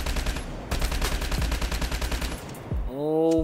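The HBR automatic rifle firing in the video game COD Mobile, a loud rapid burst of gunshots for over two seconds, then a short pause and a rising synthetic game sound.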